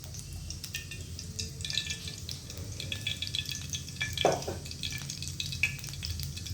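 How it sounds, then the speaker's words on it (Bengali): Mustard oil goes into a pan on a gas stove and starts to sizzle and crackle steadily. The sound is close and fairly quiet, with a few small clinks and one brief splashing burst, and no talk. "এই যে তেল দিলাম, দেখে নিন, সর্ষের তেল দিলাম।"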